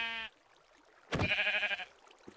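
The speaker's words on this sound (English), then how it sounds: "that sheep was annoying me during my cook" A Minecraft sheep bleats twice, a brief cry followed by a longer wavering baa, close and clear against quiet game ambience with a faint click at the end.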